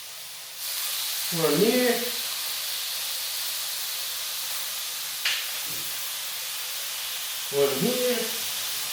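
Bacon sizzles in a hot pan with a steady hissing fry throughout, while someone speaks briefly twice over it.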